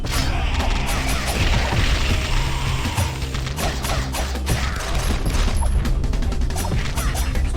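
Machine gun fire in the hack-and-slash game The Dishwasher: Vampire Smile, a dense, rapid rattle of shots mixed with crashing impacts, loud and steady for several seconds.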